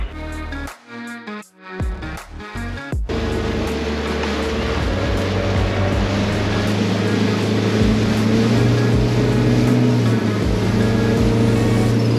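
An AMON PRO 550 motorboat engine roars steadily and loudly after a few seconds of choppy, bumpy noise, droning on without pause with water rushing beneath it.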